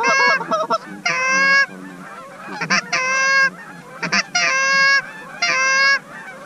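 Canada geese honk overhead in flight during a hunt near a blind, loud, close bursts of repeated calls coming in several waves with short gaps between them.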